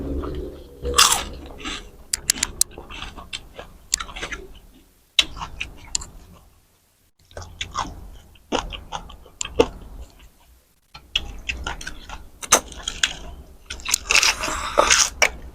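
Crunchy bites and chewing of pork cracklings, some crisp and some soaked soft, eaten with chewy rice noodles in a Thai sour dressing; close, repeated crunches in bursts with short pauses, growing crisper toward the end.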